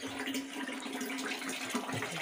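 Tap water runs steadily into household containers, being filled after the supply returned in a home kitchen, a continuous close splashing hiss with no break and no speech.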